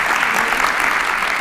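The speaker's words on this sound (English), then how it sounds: "Let's give her a round of applause." An audience applauds an award winner at a college address, with steady, dense clapping throughout at a loud, even level.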